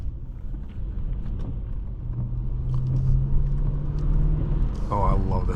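A 2013 BMW 750Li xDrive in Sport mode taking turns, its engine a steady low rumble inside the cabin that swells slightly partway through, with voices talking over it.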